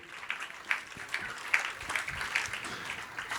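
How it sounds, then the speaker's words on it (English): Applause from a crowd, a steady wash of clapping at moderate distance, fairly soft and continuous throughout. "give them a big hug and a big kiss and a big, beautiful round of applause"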